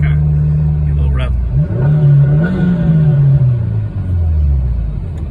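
A 2022 Subaru WRX with an ETS muffled exhaust, heard from inside the cabin, idles low, then revs up once with a rising, falling engine note before settling back to idle.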